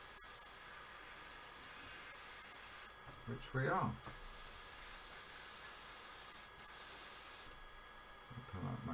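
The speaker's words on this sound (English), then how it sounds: "So tiny drop of cleaner now, and just make sure that we're spraying through" A Fengda FE-180K budget airbrush sprays a tiny drop of cleaner through in a steady close hiss that runs almost the whole time, with a short burst of scraping handling noise near the middle and a brief voice.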